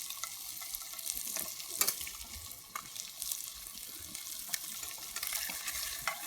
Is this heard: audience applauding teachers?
no